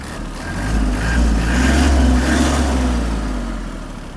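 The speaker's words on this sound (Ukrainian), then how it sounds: "Давайте додамо обертів." Hinomoto NX-201 mini tractor's 1.4-litre D1403 diesel engine revs up close by, a steady low rumble swelling through the middle and easing back at the end, with no voices.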